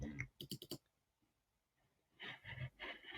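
A computer mouse clicks in a quick cluster of sharp, close taps, then a pause and another stretch of clicking, with a voice talking between and over the clicks.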